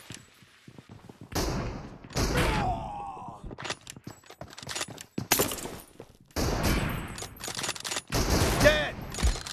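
Gunfire in the mobile battle royale game BGMI, with an M24 bolt-action sniper rifle in a team deathmatch, comes as several loud bursts of shots separated by short gaps, mixed with thuds and game effects.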